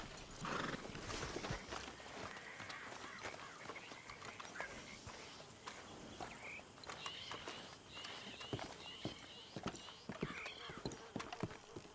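Horses in the Red Dead Redemption 2 video game clip-clop along with a quiet, uneven run of hoofbeats and occasional whinnies, heard alone without talk.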